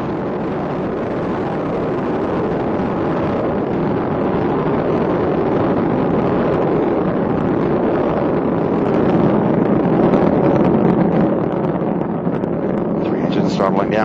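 Space Shuttle Endeavour climbs through ascent after launch from Kennedy Space Center, a dense, steady broadband roar filling the whole clip without a break, loud and unvarying, with a voice talking over it.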